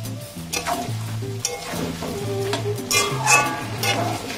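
Sliced onions softening in hot oil in a pan for a country chicken curry: a steady sizzle with intermittent scraping and stirring knocks of a utensil against the pan, close and moderately loud, no speech.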